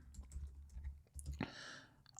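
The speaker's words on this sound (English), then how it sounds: "I'm going to type the prompt in front of you so you can see what I'm typing" Keys on a computer keyboard click softly as a prompt is typed, scattered taps beneath a low room hum, with a brief louder clack partway through.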